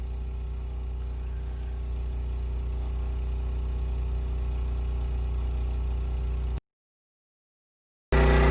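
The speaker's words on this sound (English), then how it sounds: "Got a little Harbor Freight 3-inch trash pump." A small Harbor Freight 3-inch gasoline trash pump runs steadily outdoors while pumping down a pond, a continuous loud engine drone that cuts off abruptly, leaves a short silence, then resumes.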